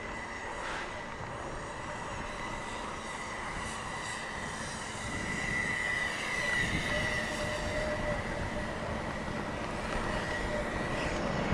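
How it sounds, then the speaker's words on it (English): A train rumbles past at a distance, a steady low roar with metallic squeals that swells louder toward the end. "there's a train"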